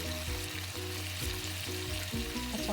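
Chicken cubes fry in a pan with a steady, dense sizzle that holds loud and even throughout, with no voices.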